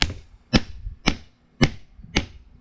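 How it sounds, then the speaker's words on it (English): A hammer strikes a hot chisel to cut forged steel for a hand-forged screwdriver, five sharp metallic blows spaced about half a second apart, close and loud, each with a short ringing tail and no talking. "to hot chisel that."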